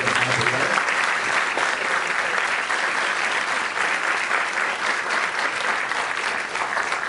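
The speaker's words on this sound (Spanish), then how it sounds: "fuertes aplausos por favor para estas organizaciones" Steady, dense audience applause in an institutional hall honoring participating organizations before a panel discussion, sustained evenly from start to finish with no talk over it.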